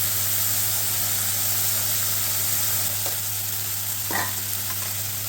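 Onions and green chillies fry in a pan for a rajma curry, giving a steady, close sizzle and hiss throughout with a low hum beneath and a couple of brief stirring scrapes; no one talks.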